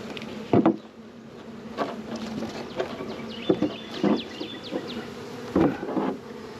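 Honey bees festooning in an open hive send up a soft, continuous buzzing hum, with occasional closer bees passing and light tapping or handling noises over it.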